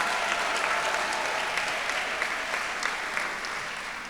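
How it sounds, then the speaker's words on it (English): An audience at an event honoring Opal Lee applauds, a dense sustained wash of clapping that holds loud and steady, then eases slightly toward the end. "So let's give her a round of applause."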